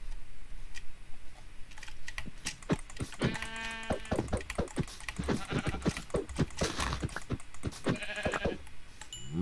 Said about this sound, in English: Let's try to find some sheep